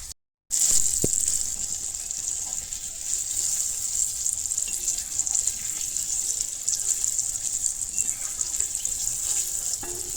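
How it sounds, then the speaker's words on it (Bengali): Jackfruit slices coated in flour batter fry in very hot oil in a wok, a loud, even, continuous hiss and crackle after a brief silent start. "এরপরে কড়াই তেলের মধ্যে ওরকম করিয়া দিলাম। তেলটা খুব গরম হইতে লাগবে।"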